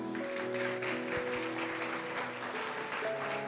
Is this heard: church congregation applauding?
yes